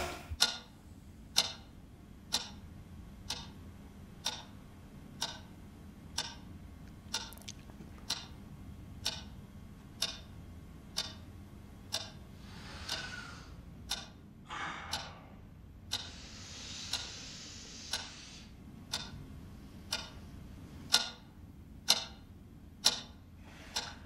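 A clock ticks loudly and steadily for about twenty-four seconds in an otherwise quiet room in Berlin, with soft breathy sighs drifting in partway through.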